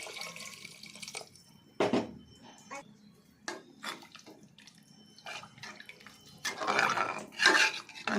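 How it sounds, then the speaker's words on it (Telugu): Two glasses of water poured into a pot of fried masala and potatoes for vegetable rice: splashy bursts and clanks near the pan, with a longer swelling pour toward the end. "2 గ్లాసుల వాటర్ వేస్తున్నా."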